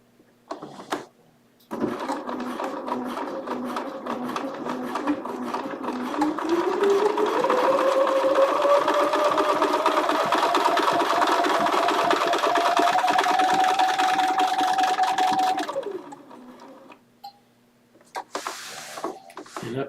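A Bernina sewing machine sews a blanket stitch on wool fabric, running for about fourteen seconds with a steady mechanical whirr that rises in speed and pitch midway before stopping. Soft clicks follow, with a voice talking briefly at the start and end.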